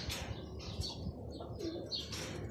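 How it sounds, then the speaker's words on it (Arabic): Big pigeon-like birds coo in a bird keeper's loft. Soft, low cooing calls mix with brief wing flaps and small chirps over a busy, close background of bird noise. "شباب راح نطلع لكم ذن الطيور الكبار"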